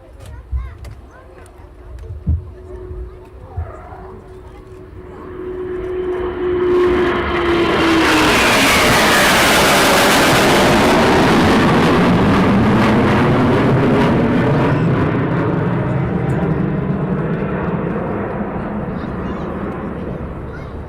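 Eurofighter Typhoon jets running in for runway 07 at RAF Coningsby at night, a faint hum building into a loud, sustained roar that peaks as they pass close and slowly fades, with a tone shifting downward.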